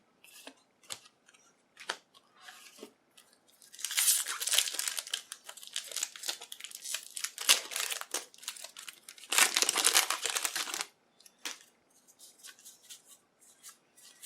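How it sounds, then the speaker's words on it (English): Crinkly foil wrapper of a Magic: The Gathering Battle for Zendikar booster pack being torn open and crumpled, close and loud, with sharp tearing bursts in the middle and softer scattered crinkles at either end. "sometimes that sound of the pack opening"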